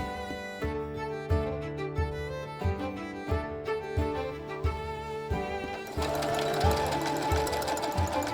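Side seams of a skirt for a green cottagecore corset dress run through a sewing machine. Short rhythmic bursts of loud, close mechanical chatter give way to a steady continuous run.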